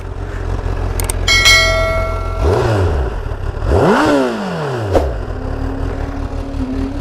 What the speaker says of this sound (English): See how the stock exhaust sounds.